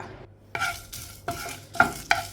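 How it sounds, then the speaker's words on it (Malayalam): Dried red chillies roasting in a hot pan, stirred with repeated scraping strokes, about five close, distinct swishes over a light sizzle. "ചൂടായ പാനിലേക്ക് കുറച്ച് വറ്റൽമുളക് ഇട്ടിട്ട് ഒന്ന് ചൂടാക്കി എടുത്താൽ മതി"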